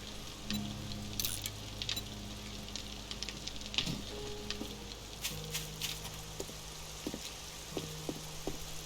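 Steady rain patters and hisses over the 7 Days to Die game world, a constant wash of droplets with a low tonal drone underneath and occasional soft knocks.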